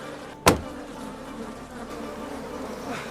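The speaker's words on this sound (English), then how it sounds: "the bees were unleashed into a furious swarm that surged into the tavern like a dark storm cloud" A dense insect buzz hums continuously, like a swarm of bees close by, with a sharp knock near the start.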